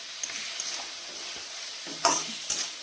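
Tomatoes sizzle and fry in a pan for a Bhogi mixed-vegetable bhaji while the vegetables are stirred, with a steady crackle and two sharper bursts near the end.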